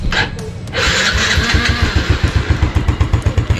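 A small motor scooter engine cranks and catches, then settles into a close, steady putt-putting idle with a regular pulsing rhythm.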